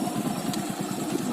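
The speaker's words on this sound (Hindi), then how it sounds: "गाड़ी चल रही है।" A motorcycle engine idles steadily after its piston noise was fixed, a low, even running hum with a faint rhythmic pulse, close by and with no talk over it.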